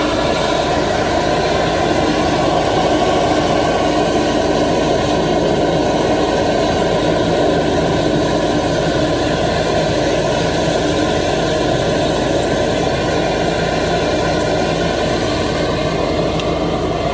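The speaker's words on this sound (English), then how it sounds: "Just leave that jet going up the inlet of the drain there." A high-pressure drain jetter runs steadily up the inlet of a badly blocked, rotten drain, giving a constant loud engine-like roar and broadband hiss that holds unbroken throughout with no talk.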